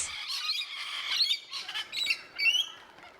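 Rainbow lorikeets give harsh, shrill squawks close by, several scratchy calls in a quick uneven sequence with brief pauses.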